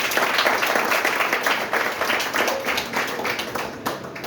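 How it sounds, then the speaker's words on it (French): Audience clapping for a person being honored at a French-language book event, dense and lively at first, then thinning into scattered claps. "je vous demande de l'applaudir"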